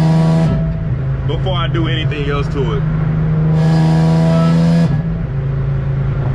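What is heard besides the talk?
Infiniti G37 car accelerating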